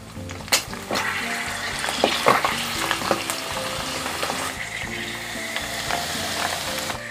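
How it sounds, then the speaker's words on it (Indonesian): Beef tripe fries to brown in a pan for nasi babat serundeng, a Madurese dish, with a loud, dense sizzle and occasional knocks and scrapes as it is stirred and turned. "Ini digoreng sampai kecoklatan saja, tidak lama-lama ya, karena memang babatnya sudah matang."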